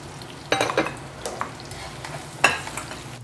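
Food sizzling and crackling in hot oil while frying, with sudden louder spatters and pops and a utensil stirring in the pan.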